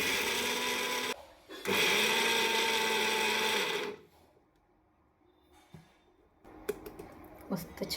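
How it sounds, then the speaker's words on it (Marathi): An electric mixer grinder whirs loudly for a couple of seconds, grinding a peanut spice masala for stuffed okra. It starts after a short opening burst, then falls away to quiet clatter and light handling noises. "आणि आत्ता हे आपण मिक्सरला फिरवून घेऊयात."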